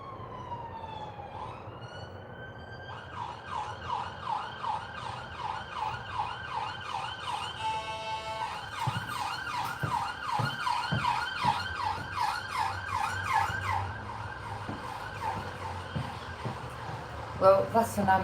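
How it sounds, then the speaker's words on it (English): An ambulance siren wails in a steady repeating up-and-down pattern as it passes, rising in loudness over the stretch, with a low rumble of traffic beneath it. "that's an ambulance that went past."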